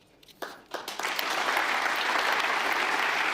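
A conference audience at the Munich Security Conference breaks into applause after Marco Rubio's speech, starting with a few scattered claps that swell within a second into sustained, dense clapping that fills the hall.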